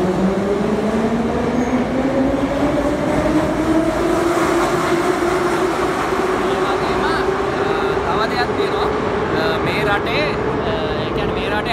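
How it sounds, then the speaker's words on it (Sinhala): A Moscow metro train pulls out of a station, its electric motor whine climbing steadily in pitch over a loud, continuous rumble of wheels and cars that fills the whole stretch. "ඔය දැන් ට්‍රේන් එක යනවා."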